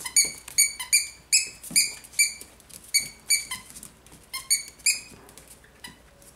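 Rapid high-pitched squeaks from young cavapoo puppies, repeated in quick irregular bursts, close and fairly loud with no talking.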